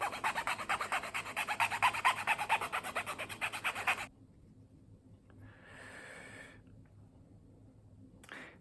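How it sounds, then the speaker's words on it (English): A rasp files down a bareback riding glove in quick, steady back-and-forth strokes for about four seconds, loud and close, then it stops and only faint handling noise remains. "just rasp this down"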